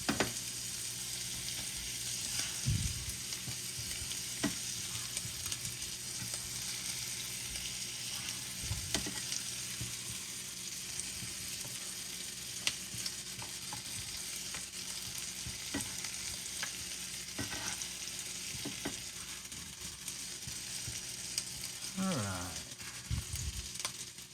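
Taco tortillas heating in oil in a pan for costra tacos, a low steady frying sizzle running throughout with occasional stirring scrapes and clatters, and faint talk now and then.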